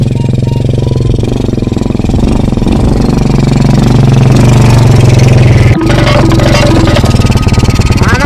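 A motorcycle taxi (ojek) engine runs loud and close with a steady, rapid idling chug and a brief throttle change partway through, while voices are faintly present underneath.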